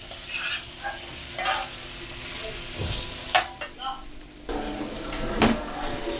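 Jicama cubes simmer in a pan while a spoon stirs them, with a soft steady sizzle broken by scraping stirs and clanks of the utensil, and someone speaks over the cooking.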